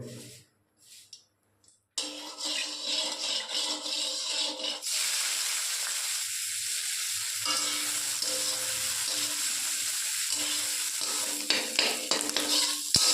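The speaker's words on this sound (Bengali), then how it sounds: "এবার আমরা ক্যাপসিকামটা ভেজে নেব" Capsicum frying in hot oil makes a loud, continuous sizzle after a near-silent opening, with stirring and light scraping of a pan throughout and brief clatter near the end, no voices.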